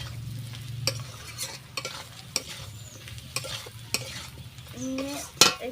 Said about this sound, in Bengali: কাঁচা লঙ্কার গুঁড়ো দিয়ে দিলাম, দিয়ে একটু নেড়ে নেবো